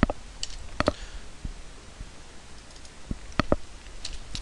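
Single computer keyboard keys are pressed as sparse, crisp clicks, a few close together and then a pause, over a steady low hum from the room.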